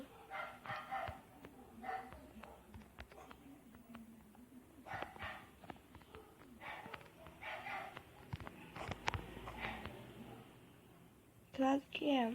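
A dog barks repeatedly in a colorful parkour video game, short yaps scattered through the clip over game sounds and a person talking, ending in a louder burst.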